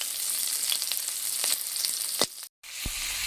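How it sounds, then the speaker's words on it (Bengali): Spices, including black cumin and onion, frying in a pan with a bright, steady sizzle and a few scraping stirs, broken by a brief moment of silence near the end. "মশলাটাকে একটু ভেজে নেব।"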